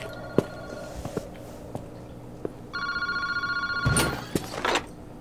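A phone booth at Kishibori Park in the video game Paranormasight rings with a rapid electronic trill, about a second of ringing, after scattered footsteps and clicks. A few sharp knocks and clatters follow.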